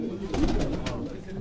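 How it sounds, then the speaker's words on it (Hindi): Caged pigeons give a short low cooing call, close and soft, amid some background noise and a faint voice. "बड़े अच्छे कबूतर बैठे"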